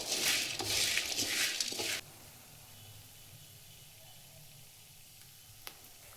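Whole spices for homemade Maharashtrian kala masala roasting in a little oil in a pan give a bright, crackly sizzle for about two seconds, then drop off to a faint background hush.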